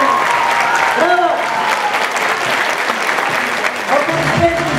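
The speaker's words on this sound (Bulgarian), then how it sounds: "Още веднъж аплодисменти за всички тези прекрасни изпълнители на сцена" A hall audience claps for dancers after a Christmas concert in a small-town dance club, steady dense applause heard with some voices and a few tonal sounds mixed in.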